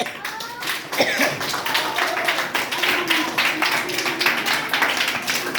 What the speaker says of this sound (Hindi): अपने लिए एक बार पुनः ताली बजाइए।